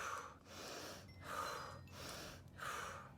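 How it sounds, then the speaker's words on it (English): Three rapid, forceful breath cycles of breath work, each a sharp inhale through the nose followed by a whooshing exhale through the mouth, close and rhythmic. "In through the nose, out through the mouth, and we'll start to speed up the breaths as we go."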